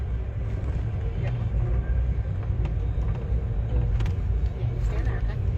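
An Amtrak California Zephyr passenger train rolls eastbound through Yuba Pass, heard as a continuous low rumble with scattered clacks and rattles, while people talk close by.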